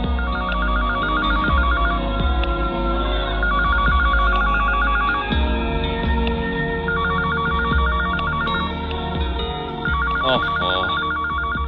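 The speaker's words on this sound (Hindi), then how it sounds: "जरा देखना किसका फोन है।" An old-style telephone bell rings in repeated bursts with short pauses, fairly loud over a low background rumble.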